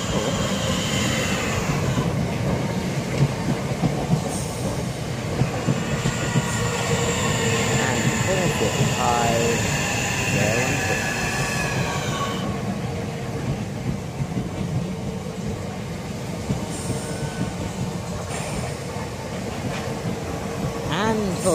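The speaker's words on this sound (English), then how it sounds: "And now arriving in is 2 Delta 54, the 1636 Southeastern service from Gravesend to London Charing Cross via Sidcup and Hither Green." Southeastern Class 465 electric train pulling into a station, a steady rumble of wheels and traction noise throughout, with some brake squeal and a person speaking over it.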